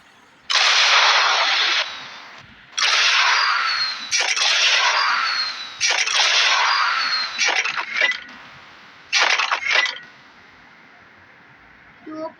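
Repeated fireworks launched from a rocket launcher in the Fireworks Simulator video game, with loud crackling, hissing bursts lasting a second or two each and brief whistles, separated by short pauses.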